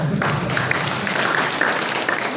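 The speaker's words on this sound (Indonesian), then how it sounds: "Tepuk tangan dong." An audience at a healing session applauding steadily, a dense wash of many hands clapping at once, fairly loud and sustained throughout.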